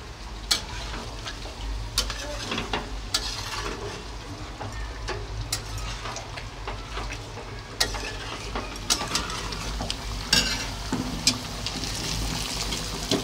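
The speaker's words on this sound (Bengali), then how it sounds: "এটা একটু বেরেস্তা ভাজছি" Sliced onions frying in a pan for beresta give a steady close sizzle with occasional clicks and clatters from stirring, and no one speaks.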